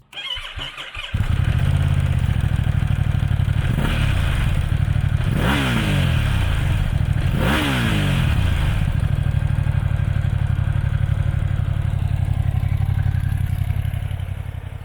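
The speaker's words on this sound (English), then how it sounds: "Let's talk about the stock exhaust. It's not too shabby." A Ducati Hypermotard V2 motorcycle with stock exhaust idles with a deep, steady rumble, then revs up sharply several times before settling back to a loud idle.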